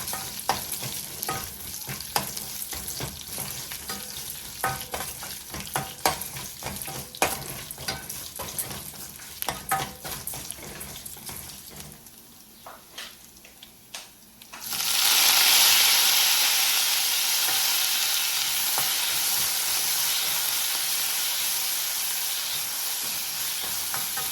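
Ginger and mint sauté in a pan for pudina thuvayal, first as a crackling sizzle with frequent stirring scrapes, then as a louder, steady hissing fry that gradually eases.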